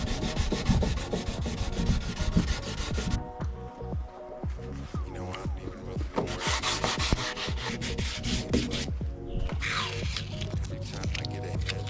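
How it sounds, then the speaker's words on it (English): Coffee table surface being smoothed with 400 grit sandpaper on an auto body block, a steady, close scratchy rubbing with repeated back-and-forth strokes and brief pauses throughout. "I have an auto body block right here with some 400 grit sandpaper. I'm just gonna smooth it out"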